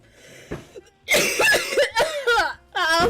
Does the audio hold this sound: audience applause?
no